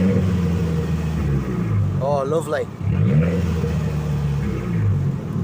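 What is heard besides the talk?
2023 Abarth 695 Monza valved exhaust revving in sport mode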